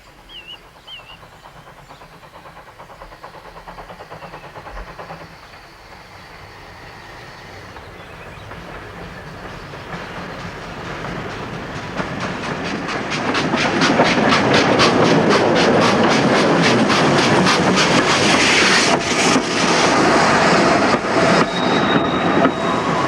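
A train pulls into a station on market day, its approach rising from a faint distant rumble to a loud, close, continuous roll of wheels and carriages over the rails, with rhythmic clatter.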